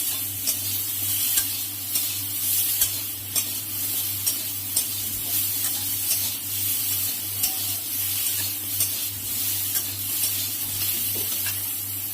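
Spice paste frying in a pan for a raw banana and prawn dish, a steady, fairly loud sizzle and hiss with regular spoon strokes scraping through it about every second and no talking.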